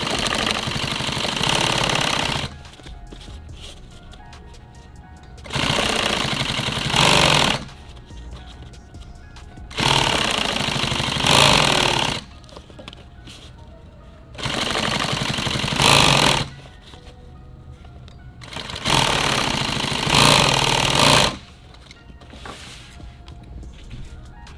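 A sewing machine stitches nylon tactical gear, tacking back and forth in five steady bursts of loud, close mechanical whirring separated by pauses.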